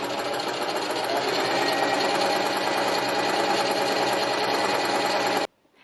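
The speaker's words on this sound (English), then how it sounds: "I'm also going to be doing some serious hemming" An electric sewing machine runs continuously while hemming curtains, a fast, even mechanical whirr held for over five seconds before stopping abruptly into near silence.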